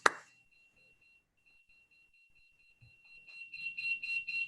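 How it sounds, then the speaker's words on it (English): A workout timer alarm at a youth football fitness session sounds as a steady, piercing electronic tone for about three seconds after a sharp onset. Pulsing, rhythmic crowd or group noise builds in underneath as it fades. "That's the timer."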